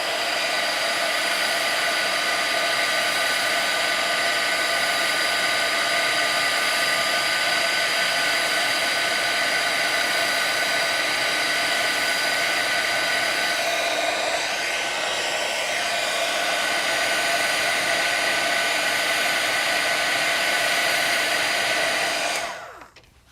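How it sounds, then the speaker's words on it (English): Heat tool melting embossing powder on a stenciled card, a loud, steady blower roar with a fan whine that runs unbroken for about twenty seconds before cutting off abruptly at the end. "So I'll hit this with my heat tool until it's smooth and melted."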